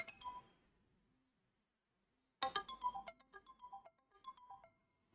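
A phone ringtone of an incoming call chimes twice as a bright, melodic tone sequence, separated by a short silence, fairly quiet and with no voices.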